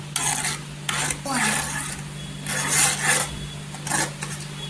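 A spoon scraping and stirring lumps of jaggery into tea in a pot on the stove, giving a steady rasping swirl with short pauses between strokes, close by and moderately loud with no talk.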